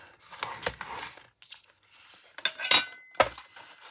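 Scoring cardstock for notecards with a scoring tool: short scraping strokes and light clicks and taps, close and fairly loud, with a few brief pauses between passes.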